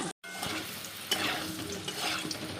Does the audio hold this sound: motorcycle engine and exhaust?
no